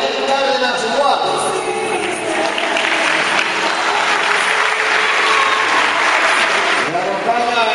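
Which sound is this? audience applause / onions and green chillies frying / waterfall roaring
audience applause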